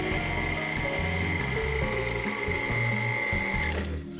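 An electric mixer blending fritter dough for Venetian carnival fritters, a loud continuous motor whir with a steady high whine and a grinding, churning rumble underneath that cuts off at the end, with no talk.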